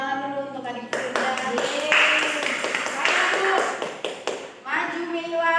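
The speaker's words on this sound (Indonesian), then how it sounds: "Tepuk tangan dulu untuk adik Firda." Classroom applause for a young student, a burst of clapping lasting several seconds with a teacher's voice talking over it at the start and end.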